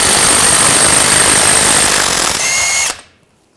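Impact tool whirring as it spins off a front axle nut with a 36mm socket on a GMC Sierra 1500 pickup during a lower ball joint replacement, a loud continuous buzzing burst that rises in pitch near the end before cutting off abruptly.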